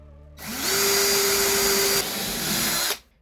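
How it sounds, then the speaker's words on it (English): A power drill whirs up and runs continuously for a few seconds drilling through wood, loud and close, then winds down. "I'm just going to drill all the way down"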